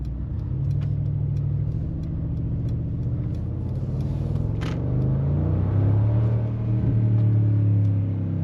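A Mercedes G Wagon drives along with a deep, steady engine rumble heard from inside the cabin, the pitch rising and falling gently as it accelerates, plus a few faint clicks, with no speech.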